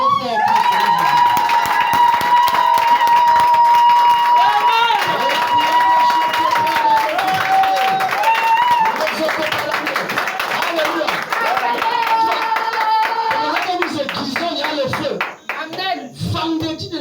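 Loud crowd clapping and cheering at a French-speaking church gathering, sustained and dense across the whole stretch, with music and singing tones running over it before the noise thins near the end.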